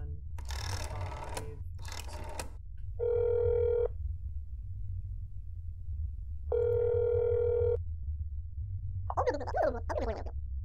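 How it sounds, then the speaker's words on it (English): Phone dialing and ringing in the video game That's Not My Neighbor: a few quick keypad tones, then two long steady electronic rings with a pause between, a short voice coming through the line at the end. "Let's just give you a little phone call."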